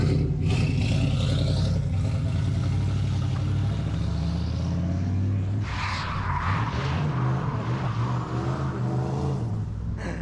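A Mazda Miata drives past, a loud close engine drone with rising and falling pitch and a brief tire-squeal-like burst midway, under a constant rumble of traffic and engine noise.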